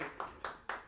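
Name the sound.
applause in the background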